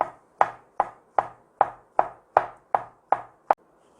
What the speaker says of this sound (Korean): 이렇게 돌돌 말아서 썰어 주시면